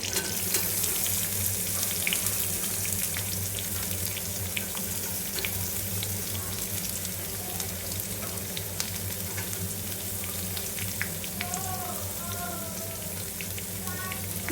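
Onions fry in a pan for homemade egg puffs, making a steady, even sizzle throughout with occasional light stirring scrapes and faint background sounds.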